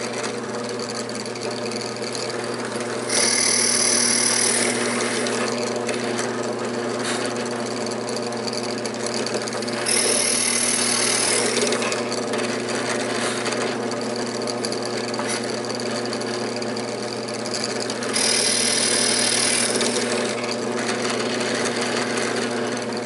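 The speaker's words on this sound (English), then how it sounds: "I have my drill bit set so they're just barely pierces through to the other side" A power drill bores through wood in three sustained bursts, a high whining grind rising over a steady engine-like hum, with pauses between passes.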